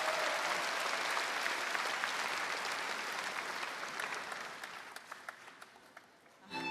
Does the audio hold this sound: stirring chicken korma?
no